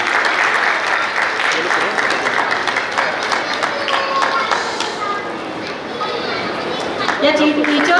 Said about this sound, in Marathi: जोरदार टाळ्या वाजवूयात आपण.